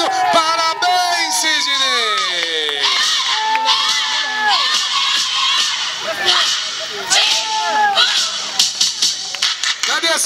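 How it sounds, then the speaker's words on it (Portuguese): A crowd at a surprise 51st birthday celebration shouts and cheers loudly and continuously, with excited voices and whoops layered over scattered clapping throughout. "Eu queria pedir uma salva de palmas pro Sidney!"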